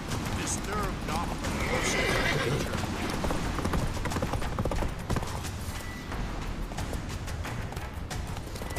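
Roach the horse in The Witcher 3 game, hooves clip-clopping at a steady trot with a neigh early on, under continuous game music and voices.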